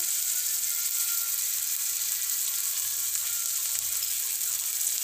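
Chopped tomatoes with salt and chili powder frying in a pan, a constant soft sizzle and fizz that holds evenly throughout, close and fairly quiet with no talk.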